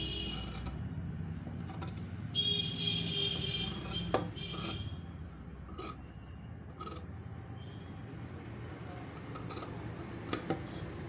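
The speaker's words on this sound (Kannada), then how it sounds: "ಅದನ್ನು ಕಟ್ ಮಾಡ್ಕೊಳ್ಳೋಣ." Scissors snip through layered blouse fabric and lining, giving soft, scattered clicks and crisp cuts in an irregular rhythm over a quiet, close-up background.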